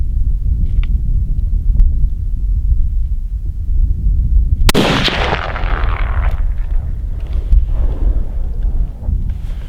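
A single sharp sniper rifle shot cracks out midway through steady wind rumble, its loud report decaying over the following seconds during outdoor target practice.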